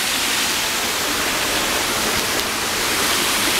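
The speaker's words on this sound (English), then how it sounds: "The waterfall thing." A waterfall roars loud and close as a constant, broadband rushing wash with no breaks and no voices.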